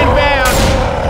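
Sustained gunfire aimed at the Tank in Left 4 Dead 2: a dense, loud stream of shots runs unbroken through the whole moment, with a sharp brighter burst partway through.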